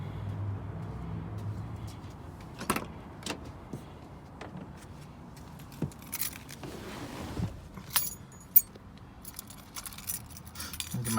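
Keys jangle in several short bursts, mixed with clicks and a door or car-body clatter near a Ford Mustang SVT Cobra with 125,000 miles, loud and close with quieter pauses between.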